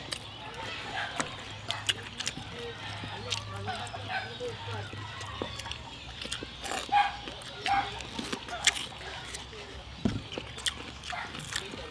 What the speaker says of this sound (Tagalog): Ingay ng aso mo.